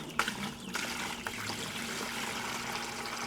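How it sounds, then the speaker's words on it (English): Water from a hose runs steadily into a bucket at a backyard meat chicken setup, a continuous hissing, splashing stream that stays fairly loud and even throughout. "So, other than that, time to add some water."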